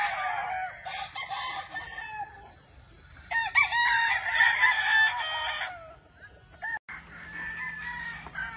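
Gamefowl roosters crowing at a game farm in Sorsogon, several loud, drawn-out crows in sequence, close and distinct, with occasional clucking and farmyard ambience between them.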